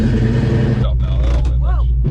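A Ford Fox-body Mustang convertible's engine runs with a steady, loud low rumble close by as she drives, while voices talk over it.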